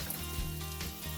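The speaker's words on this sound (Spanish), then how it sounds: "Y paso a sofreír la carne para que se logre mezclar bien." Beef sizzles loudly as it fries in sofrito for Cuban ropa vieja, a steady hissing crackle close up with a low hum underneath.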